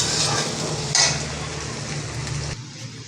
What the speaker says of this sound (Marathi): हे बघा, आपला कांदा छान परतला आहे.